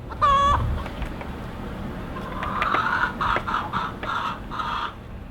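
Chickens cluck repeatedly at FortWhyte Farms in winter, with one loud rooster-like call near the start and then a steady run of clucking and squawks at close range.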